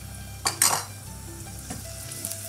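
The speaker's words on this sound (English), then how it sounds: "So the oil is hot now. Into that, I'm gonna add 1 clove of garlic." A garlic clove dropped into hot vegetable oil in a pan: a couple of sharp metallic clanks of utensil on pan near the start, then a low steady sizzle carrying on underneath, close and without talking.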